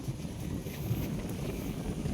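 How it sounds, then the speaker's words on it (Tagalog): Strong wind blows outdoors in a steady, rough rumble that buffets the microphone, fairly faint and continuous with no clear breaks. "Taas ang hangin."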